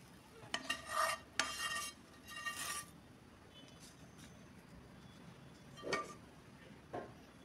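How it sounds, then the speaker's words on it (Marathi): A spatula spreads and scrapes hot besan (gram flour) mixture flat in a greased vessel, with a few close scraping strokes early, then quiet with two brief soft scrapes. "स्पॅच्युलाच्या साहाय्याने गरम गरम असतानाच आपण हे सर्व एकसारखं करून घ्यायचं आहे"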